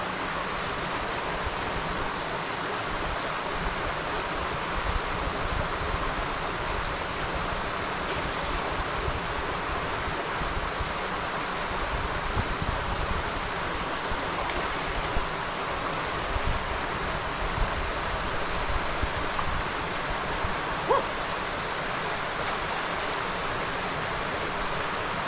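The Kuago mountain river rushes over waterfalls in a steady, broadband roar of water, constant and moderately loud throughout with no voices.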